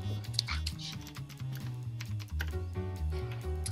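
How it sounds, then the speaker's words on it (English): Rapid irregular clacking of computer keyboard keys, close and steady, mixed under strong tonal music and some background voices. "Because I'm typing things."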